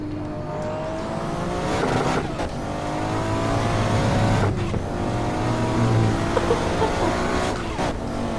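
A Toyota Supra in a racing simulator game, its engine revving and shifting through gears with rising and falling pitch and occasional tire squeal, loud and continuous with no talk.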